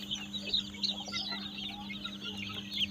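A flock of two-week-old chicks peeps and chirps continuously in a farm pen, faint high cheeping over a steady low electrical hum.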